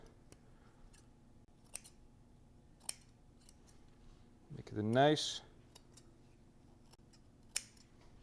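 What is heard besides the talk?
small scissors cutting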